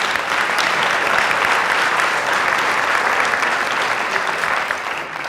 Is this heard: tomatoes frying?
no